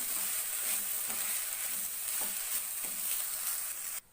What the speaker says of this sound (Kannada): ಇದರಲ್ಲೇ ಸ್ವಲ್ಪ ಇದನ್ನು ಫ್ರೈ ಆಗಲಿ